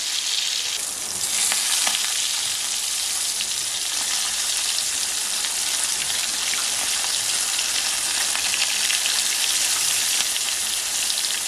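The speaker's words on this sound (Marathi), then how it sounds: "जे छोटेवाले होते ते छोटेवाले मासे आपल्याला फ्राय करून घ्यायचे" Small fish frying in oil over a wood-fired chulha, a loud, continuous crackling sizzle heard up close, with heavy rain in the setting and no speech.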